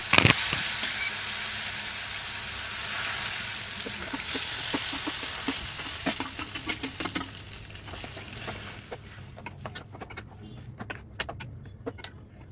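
Pounded cucumber chutney pieces dropped into a hot pan of tempering, giving a broad steady sizzle with scattered clinks and stirring scrapes that thin out toward the end, no voices.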